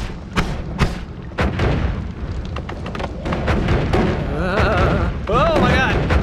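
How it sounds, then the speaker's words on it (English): Explosions in the video game Noita burst in quick succession, sharp booms and thuds at irregular intervals, some close and punchy, with crackling debris and warbling effects between them as a voice talks over the action. "Just the raw explosions will do something."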